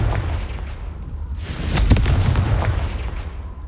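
A Confringo spell explosion in a video game, a single loud booming blast with a short rumbling tail, close and alone.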